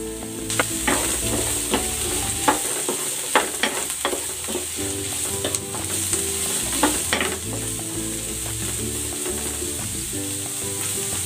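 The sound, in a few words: baguio beans added to a pan, sizzling and stirring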